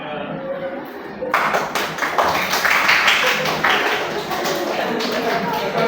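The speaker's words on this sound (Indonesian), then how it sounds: "Ya, tepuk tangan." Classroom applause breaks out suddenly after a quiet moment, a dense and fairly loud burst of many students clapping close by that keeps going steadily to the end.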